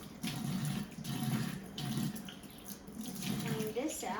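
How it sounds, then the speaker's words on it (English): Water pours steadily from a spout in uneven bursts onto a plant potted in a teapot, splashing and trickling close by, with a brief clink near the end. "So let's water it."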